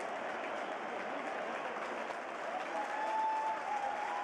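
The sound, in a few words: Brazilian football crowd cheering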